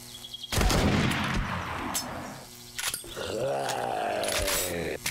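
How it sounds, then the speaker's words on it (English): A shotgun blasts at a zombie lumberjack in the 7 Days to Die video game, one loud sharp report followed by a second heavy blast and a rising groan-like sweep, with game noise in between. "Let's just get a good shotgun shot on him."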